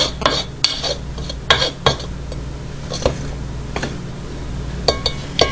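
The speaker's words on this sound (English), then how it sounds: "scrape the sides of the bowl and get all that down out of there" A spatula scraping the sides of a mixing bowl of pumpkin roll batter, heard as irregular close clicks and knocks against the bowl with soft scraping between them, with no talking.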